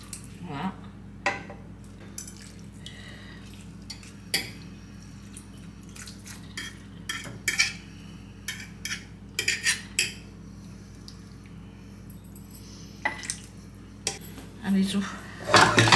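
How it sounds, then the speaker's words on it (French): Utensils clink and scrape against a pan while a Portuguese salt cod dish with piri-piri is stirred, with scattered metallic knocks, drips and a steady background hum, close by and with no talking. "Je mélange."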